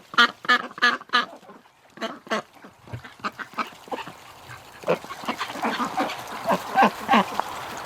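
Muscovy ducks quack repeatedly nearby around a water tub in cold weather, a rhythmic run of loud quacks at first, then a busier, overlapping chatter of several birds with some splashing.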